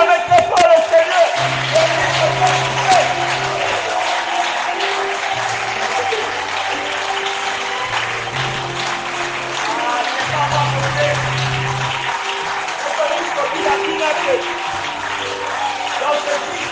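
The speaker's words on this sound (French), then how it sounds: "Alors tu vas acclamer très fort le Seigneur." A church congregation at a Friday evening service in Dolisie applauds and cheers, a dense sustained wash of clapping with shouts, while an organ or keyboard plays sustained low notes underneath.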